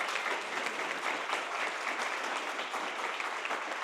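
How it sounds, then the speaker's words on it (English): Steady, enthusiastic applause from an audience at a startup pitch competition, continuous clapping at an even level for a few seconds. "let's give these folks a round of applause"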